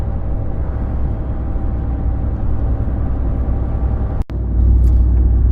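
Ram pickup truck tires roaring on the road while driving, a steady loud low rumble from inside the cab with a brief thump near the end.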